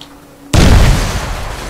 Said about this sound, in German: Vielleicht noch eine Explosion gefällig?